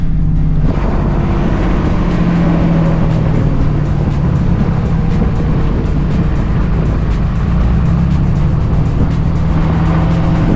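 Truck engine holding back while towing a trailer down a steep mountain road near Mt. Rainier, a steady loud low drone with road rumble throughout, no other voices.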